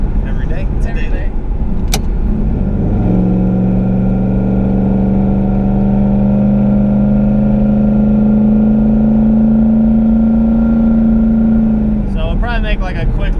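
A 2018 turbocharged Mustang GT rated at 1,000 hp cruises and accelerates with a loud, steady engine drone that holds a sustained tone for most of the stretch, with brief voices near the start and end.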